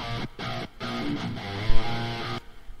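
Dense, sustained electric guitar chords with an even, squashed level, a few short stops between strums, played alone.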